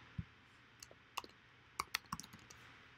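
Mouse clicks on a calendar in scheduling software, a scattering of sharp, close, quiet clicks at irregular intervals with nothing else around them.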